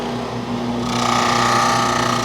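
A woodworking machine with dust collection suction switches on partway through and settles into a loud, steady whining hum, alone with no talk.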